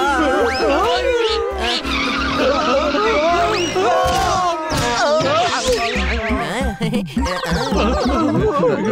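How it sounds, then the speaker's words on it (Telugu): Cartoon scooter skidding with squealing tyres and a crash, loud and busy, under animated character voices and lively music. "వెళ్తున్న స్కూటర్ మీద నుంచి దూకి జాగింగ్ చేస్తున్నావు. మేం కింద పడిపోయాం."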